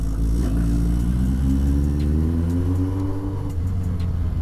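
A 1978 Kawasaki Z650 motorcycle engine idles steadily after starting, a loud, close, continuous rumble with a slight rise in revs partway through and no talking.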